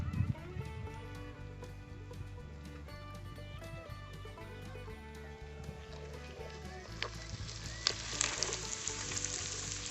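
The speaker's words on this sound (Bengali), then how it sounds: "পেঁয়াজ আদা রসুনগুলো ভালো করে যাতে ভাজা হয়ে যায় তার জন্য দিয়ে দিচ্ছি" Chopped onions with ginger and garlic sizzle steadily in a pan, a continuous soft frying crackle with occasional stirring, faint and without talk.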